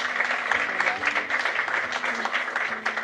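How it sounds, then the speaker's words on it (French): An audience in a French church applauds its pastors, with steady, dense clapping filling the room and voices rising through the applause. "Est-ce qu'on peut acclamer pour eux?"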